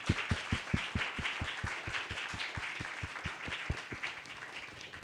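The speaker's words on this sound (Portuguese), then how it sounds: "eu gostaria de pedir a todos uma salva de palmas para o Túlio Grimberg" An audience at the opening of the FotoRio 2017 photography festival claps, with distinct rhythmic handclaps near the mic over a softer, fairly faint crowd applause that fades slightly toward the end.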